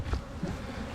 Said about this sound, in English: Now these bees are spread out